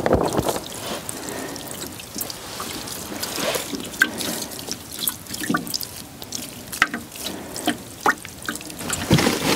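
Water poured from a watering can over freshly patted-down seedlings in a high tunnel during winter sowing, a steady splashing trickle with scattered drips, close and moderately loud throughout without talk.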